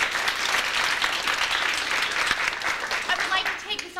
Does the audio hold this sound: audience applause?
yes